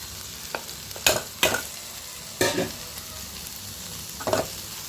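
Grated coconut is stirred into a frying okra poriyal. Four or five distinct spatula scrapes and tosses ring out over a soft, constant sizzle, close by and spaced irregularly.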